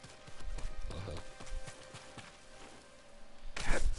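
Horse hooves clip-clop in the samurai video game Ghost of Tsushima, a faint irregular run of hoofbeats at moderate distance, swelling louder near the end.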